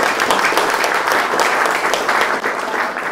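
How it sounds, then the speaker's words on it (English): An audience gives a loud, dense round of applause after a talk about making a butterfly haven. The clapping is continuous and close, holding steady for about three seconds before easing slightly. "So another round of applause."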